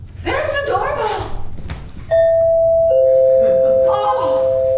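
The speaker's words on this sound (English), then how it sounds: "There's the doorbell." A doorbell rings during a live stage comedy performance, its sustained electronic tone sounding loudly just after a voice and holding to the end, with a second note layered in and faint stage noise beneath.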